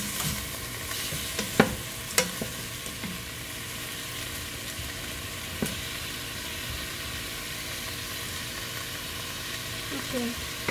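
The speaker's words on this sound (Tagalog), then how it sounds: "I-brown lang natin ang konti." Food browns in a hot pan at home, a steady, even sizzle and crackle running throughout, with a few sharp clicks and pops from stirring, close and moderately loud.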